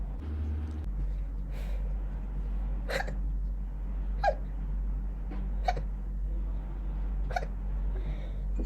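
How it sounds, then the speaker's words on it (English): Several sharp, short hiccups from a person sound at irregular intervals, about five over several seconds, close and distinct over a steady low background hum. "Hiccups again."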